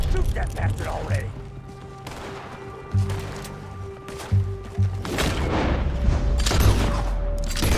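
Scattered gunshots and booming bursts in the Red Dead Redemption II video game, several sharp reports spaced irregularly over a rumbling background, with voices talking between them.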